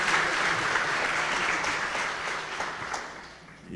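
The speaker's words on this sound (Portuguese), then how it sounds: "Vamos também recebê-los com uma salva de palmas para Jesus." A Portuguese-speaking crowd at a church revival conference gives a loud, dense round of applause to welcome a pastor, a continuous roar of clapping that eases slightly near the end.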